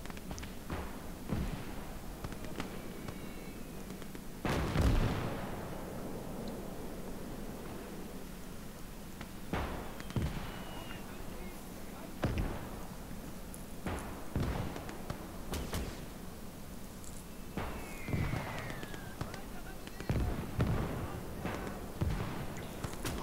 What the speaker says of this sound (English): I think the mortars are working on him though.